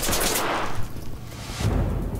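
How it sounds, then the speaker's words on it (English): Gunfire in the tactical shooter game Ready or Not, a loud sustained burst of rapid shots with echoing blasts, steady throughout with a heavier volley near the end. "Where's the shooting from?"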